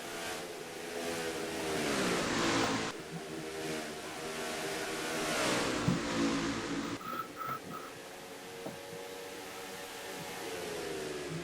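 Race cars roaring around Rockingham in a NASCAR-style racing video game, engines holding a loud steady drone with pitch sweeps as they rev and pass, without any talk.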